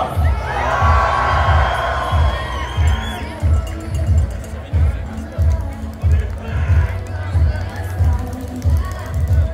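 Crowd cheering and shouting for runners at the Marathon Beneva de Montréal, a steady roar with whoops, children's shouts and a rhythmic pulse of claps or drumming running throughout, close and loud.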